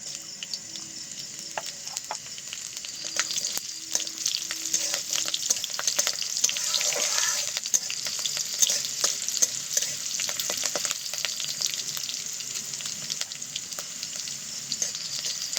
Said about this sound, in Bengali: তেলটা গরম করে নিয়েছি এবার তেলের ওপর দেব খানিকটা মৌরি কয়েকটা কাঁচা লঙ্কা আর তিন চারটে মতো শুকনো লঙ্কা